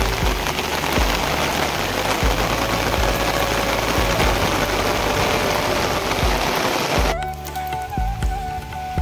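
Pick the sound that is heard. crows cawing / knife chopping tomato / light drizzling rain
light drizzling rain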